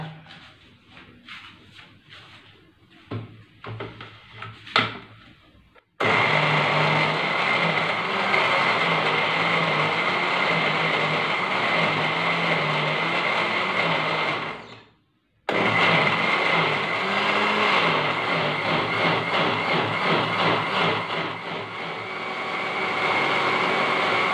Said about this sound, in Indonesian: dan terus blender.